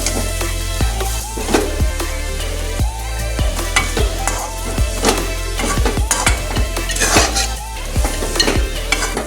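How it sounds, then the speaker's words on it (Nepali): Spicy noodles stirred in a hot frying pan, with repeated metallic scrapes and clinks of the utensil against the pan over a steady sizzle, close and fairly loud. "अब एकचोटि मजाले चलाउँ।"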